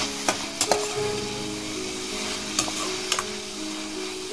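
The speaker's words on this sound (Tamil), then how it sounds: "இதில் பார்த்தீங்கன்னா உங்களுக்கு நல்லா தெரியும் தக்காளி நல்லா வதங்கி வந்துட்டு இருக்குது." Tomatoes sauté in hot oil for an egg gravy, a continuous close sizzle with a few sharp ticks and taps of stirring against the pan.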